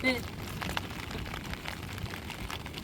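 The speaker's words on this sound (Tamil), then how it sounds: "மழை நல்ல மழை கடல் மேலேயே பேஞ்சிக்கிட்டு இருக்குது" Rain falls steadily on the open sea around a small fishing boat out for prawn netting, a soft continuous hiss with scattered patters, fairly quiet and unbroken for the whole stretch.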